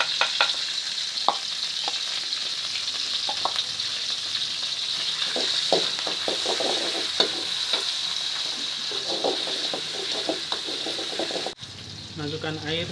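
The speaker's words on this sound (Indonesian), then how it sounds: "Lalu tumis bumbu dan petainya." Continuous sizzling of spices and stink beans stir-frying in a little oil in a wok, with scraping stir strokes and clinks of a utensil, quiet talk faintly underneath.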